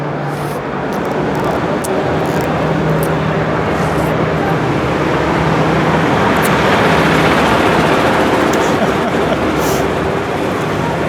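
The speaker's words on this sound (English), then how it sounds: "Nothing like the garbage truck going by to add to the ambience of your ice cream" A garbage truck rolls along a street past nearby diners, a loud broadband roar of engine and road noise that holds steady for the whole stretch with faint clinks and clatter on top.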